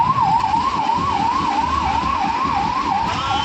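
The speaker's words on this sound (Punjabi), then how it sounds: "ਇਹ ਸਾਫ ਸੁਣਾਈ ਦੇ ਰਹੀ ਹੈ ਐਂਬੂਲੈਂਸ ਦੀ ਆਵਾਜ਼" An ambulance siren wails in a steady rising-and-falling pattern, fairly loud over a constant background of traffic noise from a heavy jam on a bypass road in Nabha.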